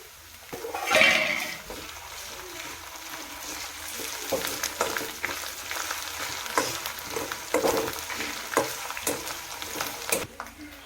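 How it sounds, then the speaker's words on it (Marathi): Finely chopped green chillies and coriander hit a frying pan for a spicy Maharashtrian egg curry, bringing a burst of sizzle followed by continuous moderate frying hiss and scraping stirs, close by. "आता आपण मिरच्या कोथंबीर बारीक केली ती टाकून द्यायच्या"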